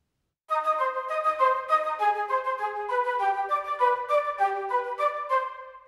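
A sampled orchestral flute melody programmed in Logic Pro X plays one continuous legato phrase that climbs into the upper octave, steady and clear, with no voices.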